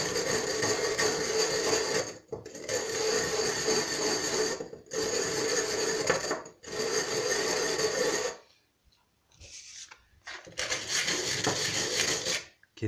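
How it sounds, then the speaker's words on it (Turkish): Repeated rough rasping strokes of sanding on the sharp cut edge of a glass bottle, several long back-and-forth bursts separated by brief pauses. "keskin yerlerini de zımparaladıktan sonra"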